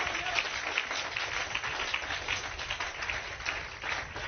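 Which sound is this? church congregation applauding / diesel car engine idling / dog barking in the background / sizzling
church congregation applauding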